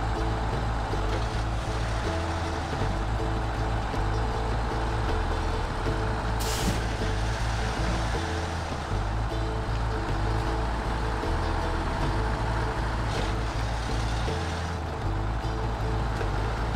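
A heavy truck in SnowRunner drones along a highway on off-road tires, its engine rumbling low and constant, with the hiss of an air brake breaking through once partway along.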